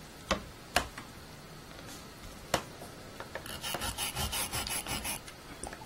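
Chalk rubbing and scraping across denim fabric while marking lines for hair bow ponytail elastics, a few sharp taps early on, then a run of rhythmic rasping strokes near the end, close and fairly quiet.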